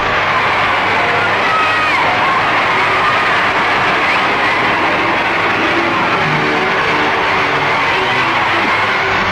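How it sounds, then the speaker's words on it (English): A huge outdoor crowd of about 60,000 people roars and cheers continuously for the Queen Mother's arrival on a royal tour. The sound is dense, loud and sustained, with the worn quality of an archive newsreel recording. "everyone cheering the royal visitor"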